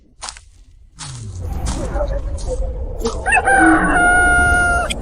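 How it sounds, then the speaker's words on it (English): A rooster crows loudly and close by, rising to a drawn-out call, amid rustling, thumps and layered tonal effects. "Rooster breaks dawn."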